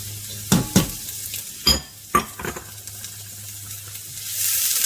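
Chopped onions and garlic sweat in a pan over lowered heat, a soft steady sizzle broken by several sharp scraping stirs of a utensil against the pan, close by with no talking.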